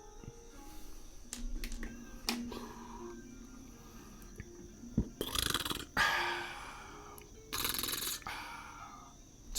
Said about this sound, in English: It's usually what I do whenever I burp, so it's not real, real loud.